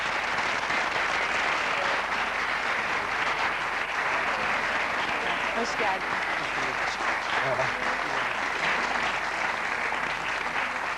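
Studio audience on a 1989 Sunday entertainment show applauding a singer, a dense, continuous wash of clapping filling the whole stretch, with a brief greeting spoken over it.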